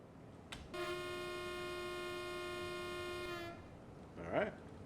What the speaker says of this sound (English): I actually want to hit the horn just to see what it sounds like